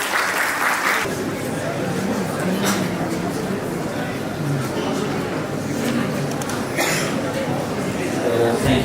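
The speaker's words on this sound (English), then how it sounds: "Please join me in extending a warm round of applause as we welcome him to share his invaluable insights" An audience at a clinical symposium and certificate distribution ceremony applauds steadily, with a sustained crackle of clapping for several seconds and a few louder bursts mixed with faint crowd murmur.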